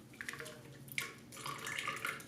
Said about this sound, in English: I'll pour in 1 cup of cold, heavy cream